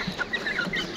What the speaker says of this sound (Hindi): ये देखिए मुर्गे को